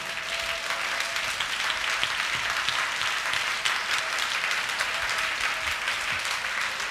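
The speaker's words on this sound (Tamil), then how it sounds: "நல்லா கைத்தட்டு, தலைக்கு மேல கைத்து சொல்லு" A worshipping congregation claps hands raised above their heads, a steady, fairly dense crackle of many hands sustained for several seconds, moderately loud and unbroken, with a faint tone lingering beneath.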